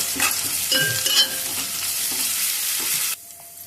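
Ginger paste fries in a pan with a loud, bright sizzle close up. Spoon scrapes and stirring clacks sound through the first three seconds, then the sizzle cuts off abruptly to near quiet.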